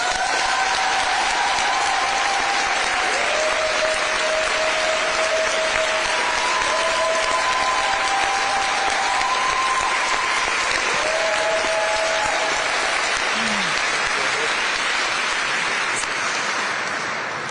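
Sustained, steady applause from an audience welcoming a speaker to the podium at a press conference in Minneapolis, a dense even clatter of many hands that continues throughout and tapers slightly near the end.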